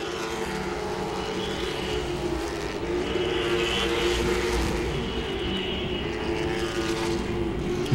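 Late model race cars at Langley Speedway roar continuously in a dense pack, engines loud and sustained with a slight swell as cars pass, no talk over them.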